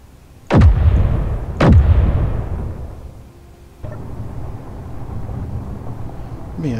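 A heavy weapon fires in a space-themed Minecraft-like video game: two loud, booming shots about a second apart, each with a long fading rumble, followed by a lower sustained hum.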